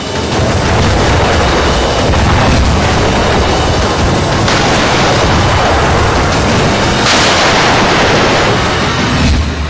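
Dense, continuous rumbling blasts and booms fill the whole stretch, loud and sustained like heavy shelling with overlapping explosions.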